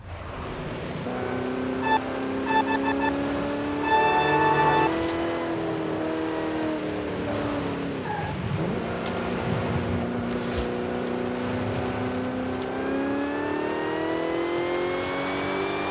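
Supercharged car in Forza Horizon 5 revving and accelerating, its supercharger whine climbing in pitch over a steady engine drone, loud and close, with no talk.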